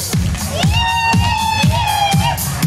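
A concert crowd cheers and claps loudly, with whoops and shouts rising over steady applause and rhythmic thumping in the background.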